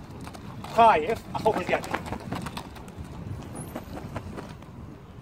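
An Arabian horse, hot-tempered and light on its feet, clip-clops with uneven hoofbeats at close range while someone talks over them.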